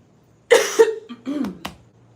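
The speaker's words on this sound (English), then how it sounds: "I'm fighting a little cough." Someone coughs a couple of times up close, sharp dry bursts followed by a short throat-clearing rasp, alone in a quiet room.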